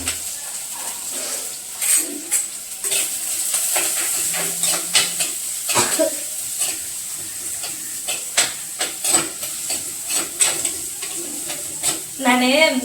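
Green chillies spit and sizzle as they are tempered in hot oil in a pan for beetroot poriyal, a steady frying hiss with scattered pops and stirring scrapes, close and continuous.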